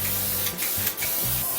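Lacquer-thinned metallic paint sprays from an airbrush onto a 1964½ Mustang Monogram 1:24 scale model car, a continuous close hiss broken by two brief pauses, with a low compressor hum underneath.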